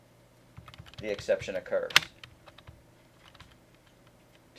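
Several students tap away at computer keyboards during a lecture, making scattered soft clicks throughout while someone speaks over them.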